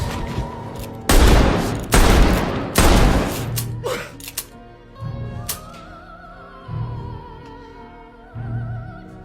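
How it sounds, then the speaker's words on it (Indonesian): Pistol fired repeatedly until empty in a gangster film scene: three loud close blasts in quick succession, followed by softer thuds and dramatic music. "memaksa Nat agar melepaskan beberapa peluru dari pistolnya, bahkan secara terus-menerus hingga peluru Nat habis"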